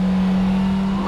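A Honda Civic Type R engine drones steadily under load as it climbs a hill on the Ebisu circuit, a loud, constant-pitched tone held for about a second with no talk.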